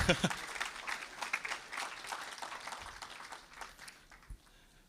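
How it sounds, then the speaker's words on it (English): An audience at a travel and hospitality startup expo summit applauds mentors and panelists, a fairly steady wash of clapping from many people that fades somewhat toward the end. "we'd love to give you a round of applause and recognize you"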